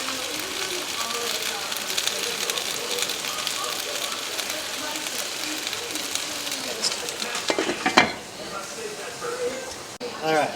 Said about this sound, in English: And then add a little bit of water and let those potatoes steam.